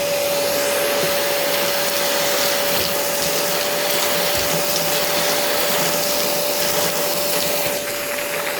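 An OSMON wet and dry vacuum cleaner runs steadily with a loud, constant whine and rushing airflow while sucking up heavy nuts, screws and iron balls, with faint rattles from the debris and no talking.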